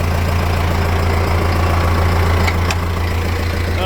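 A John Deere 6430 tractor engine idles loud and close with a steady low rumble that holds throughout, and a couple of faint clicks sound near the end.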